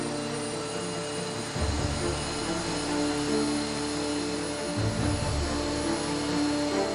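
Boeing 777 jet engine runs during a ground test, a loud steady whine and roar with a strong low rumble, surging slightly at moments and continuing without voices.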